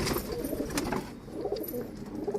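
Pigeons cooing at moderate distance, soft low repeated coos over faint background noise and a few brief clicks, no talking.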